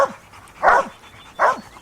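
A hunting dog on a boar hog hunt gives two sharp, loud barks about three-quarters of a second apart, close by, with quiet outdoor background between them.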